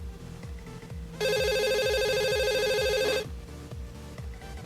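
A telephone rings in one continuous electronic burst lasting about two seconds, loud and near, over a quiet background with soft rhythmic thumps.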